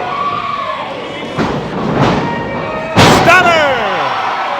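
At a live WrestleMax STL wrestling event, a wrestler swings the ring bell into an opponent, giving a loud metallic clang with ringing overtones over crowd noise, after a couple of duller thuds.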